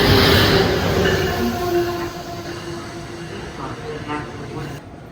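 Passenger train rumbling at 30th Street Station in Philadelphia, a loud steady roar with faint metallic squeals and tonal hums, slowly fading over a few seconds.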